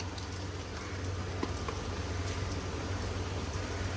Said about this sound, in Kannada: ಬೆಳಿಗ್ಗೆ ಇರಲಿಲ್ಲ, ಈಗ ಸ್ಟಾರ್ಟ್ ಆಯ್ತು ಪರ ಮಳೆ